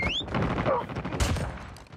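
Rapid GKS rifle fire in a first-person shooter game crackles steadily through the moment, loud and close, while faint voices murmur beneath it.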